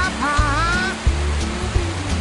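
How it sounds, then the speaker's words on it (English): A river flows past a tilapia farm in Costa Rica with a steady broadband rush of moving water, and a few low thumps break through. A faint tonal whistle rises and falls near the start. "It's got this really cool river going by it"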